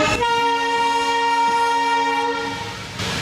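A loud, sustained train horn blares for about two and a half seconds on a desert railway route in Rajasthan, India, a rich harmonic tone with rumbling rail noise underneath.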